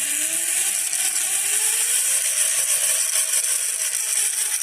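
A DIY electric pit bike cruising at its lowest speed setting, a steady loud whine with motor and chain hum holding constant throughout, with wind noise and no pauses.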